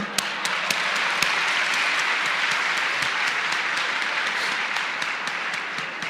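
Sustained audience applause at a live lecture-performance, dense steady clapping from a large crowd with a few sharper individual claps standing out, continuing evenly throughout without speech.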